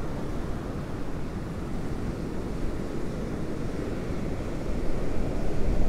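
Storm surge waves crash at the Turtle Club as Hurricane Milton arrives: a steady, dense roar of surf with wind buffeting the microphone, swelling slightly louder toward the end, with no voices.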